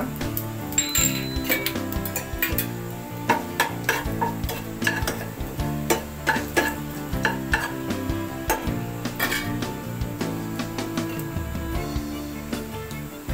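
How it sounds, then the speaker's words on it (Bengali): Cumin seeds, bay leaves and dried chillies crackle and sizzle in hot oil in a pan, with steady frying hiss and frequent clinks of a utensil, close and loud throughout with no talking. "তেলটা গরম হয়েছে, এখন আমি ছেড়ে দিচ্ছি গোটা জিরা, দিয়ে দিচ্ছি 2-3টি তেজপাতা, 3টি শুকনো লঙ্কা"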